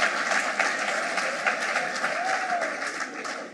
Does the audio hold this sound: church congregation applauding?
yes